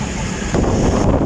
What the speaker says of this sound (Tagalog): Malakas yung hangin dito mga kabasic.